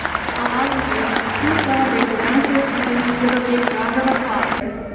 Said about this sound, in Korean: Please give your students a big round of applause to celebrate their graduation.